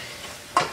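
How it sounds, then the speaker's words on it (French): Caramel being stirred in a pot, a soft scraping bed that swells into a louder bubbling scrape near the end, close and with no voices. "Surtout remuer."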